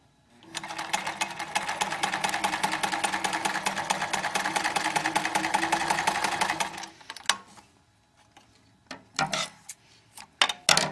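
A sewing machine stitching a half square triangle quilt piece runs in one steady fast whirring burst for about six seconds, then stops, followed by a few scattered clicks and handling noises.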